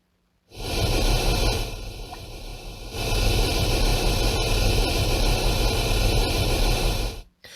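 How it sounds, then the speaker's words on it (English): A loud, steady broadband hiss of pink noise test signal for Helix TuneEQ tuning switches on, dips briefly partway, then resumes before cutting off abruptly. "I'm going to play some pink noise, so you're going to hear the shh"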